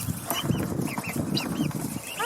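Chicks and other poultry on a small five-acre farm cluck and peep in a busy chorus of short, overlapping calls, fairly close, over a soft murmur of background noise.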